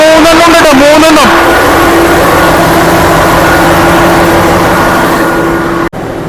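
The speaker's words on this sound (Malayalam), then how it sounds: "ഇത് ജനറേറ്റർ റൂമാണ്. വലിയ കട ജനറേറ്ററാണ്." A large diesel generator runs in a ship's generator room, giving a loud, steady, close drone with a constant low hum. A voice is heard briefly at the start.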